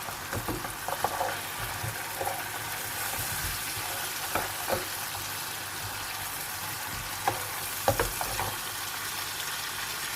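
Minced meat fries in a pan with spices for keema aloo, a steady crackling sizzle punctuated by occasional scraping stirs and small pops, close and moderately loud.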